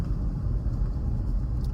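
Steady low engine rumble heard from inside a moving car, a continuous dull road drone with no breaks and no talking.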